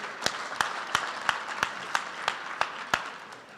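Applause at a graduation ceremony honoring a doctor: sparse, evenly spaced claps in a steady rhythm, about three per second, sharp and distinct over a quiet room, fading slightly toward the end.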